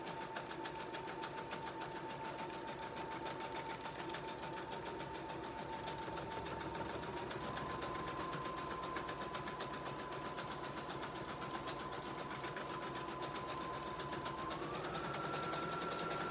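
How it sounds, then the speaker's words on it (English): A sewing machine stitches book signatures with deckled edges, humming in a steady, continuous rapid run close by and alone for the whole stretch, with a faint pitch rise near the end. "I know it's boring listening to me sew"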